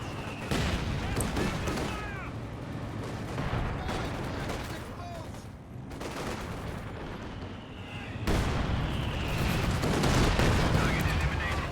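Werfer rocket artillery barrage in a competitive strategy game match, a dense, continuous roar of launches and explosions with crackling bursts throughout, loud and sustained, with a commentator talking over it.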